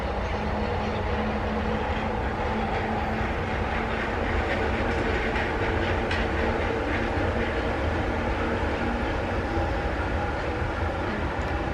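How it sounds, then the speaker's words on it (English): A Disney monorail rumbles past with a steady roar that stays loud and constant throughout, with no talking. "Monorail."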